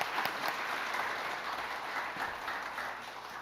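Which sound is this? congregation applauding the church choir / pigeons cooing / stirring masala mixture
congregation applauding the church choir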